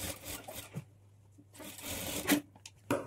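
A sewing machine runs double stitching over the lining of a high-neck blouse in short, quick bursts separated by brief pauses, close and moderately loud.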